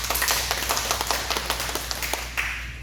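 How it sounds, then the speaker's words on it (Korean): Audience clapping at a church humanities lecture, a steady patter of many hands over a low constant hum, moderately loud and continuous without speech. "우리 박수 한번 보내주세요."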